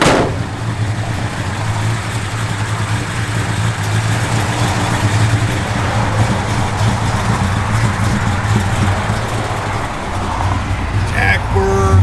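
A 1972 Plymouth Duster with solid lifters idles steadily nearby, a low, even engine rumble that holds throughout, with faint voices briefly at the end.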